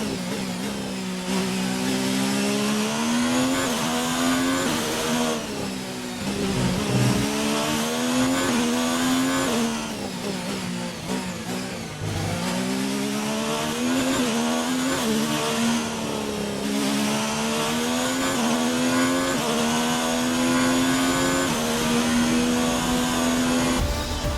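A Formula 1 race car engine screams continuously in the video game F1 2019 at the Melbourne Australian Grand Prix, loud and close, rising and falling in pitch through gear shifts with brief dips while braking for corners.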